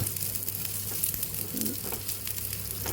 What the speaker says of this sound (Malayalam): അങ്ങനെ തന്നെ വറുത്തെടുക്കാം നമുക്ക് എണ്ണയിലിട്ടിട്ട്